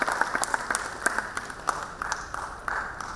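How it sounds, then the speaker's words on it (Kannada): An audience at a school award ceremony claps to welcome a guest onto the stage. Brisk, scattered clapping continues for a few seconds at moderate volume, with no voices. "ನಿಮ್ಮೆಲ್ಲರ ಪ್ರೀತಿಯ ಚಪ್ಪಾಳೆಯೊಂದಿಗೆ ಅವರನ್ನ ವೇದಿಕೆಗೆ ಬರಮಾಡಿಕೊಳ್ತಾ ಇದ್ದಾರೆ"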